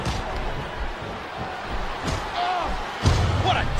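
A stiff kick landing in a wrestling video game, a sharp thud near the end over arena crowd noise and a commentator's voice, with a couple of lighter impacts earlier.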